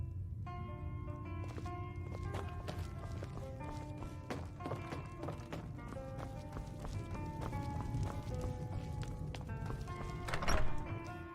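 Horse hooves clip-clop steadily in the video game Skyrim, a dense run of clear hoof strikes over a low game ambience, with a louder thump near the end.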